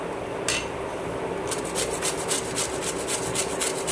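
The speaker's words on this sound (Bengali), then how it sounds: "এবার এটাকে একটু ঘষে নেব।" Mango being rubbed against a kitchen grater, a run of quick, rhythmic rasping scrapes close up after one early stroke, with no talking.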